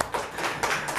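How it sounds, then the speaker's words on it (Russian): Applause for a studio guest, the director of the National Museum of the Republic of Tatarstan, on a Tatar cookery show: a short stretch of steady clapping from a studio audience, moderately loud and even throughout. "Аплодисменты!"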